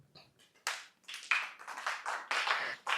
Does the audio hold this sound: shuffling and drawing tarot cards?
no